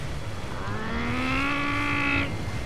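A voice imitates a revving engine, one rising, slightly wavering tone held for about a second and a half, then cut off, over a steady background hum.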